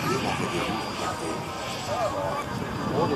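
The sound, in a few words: Messerschmitt Me 262 replica aircraft on final approach with gear down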